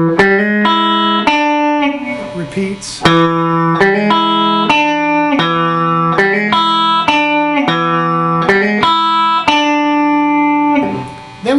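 Blues riff in E on guitar, played with a 7th note on the second string and a hammer-on, in a steady rhythm of ringing plucked notes and chords; a voice speaks briefly near the start.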